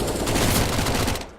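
Dense burst of rapid gunfire from a shotgun and other weapons in a Counter-Strike: Global Offensive match on the Train map, loud and continuous, tapering off at the end.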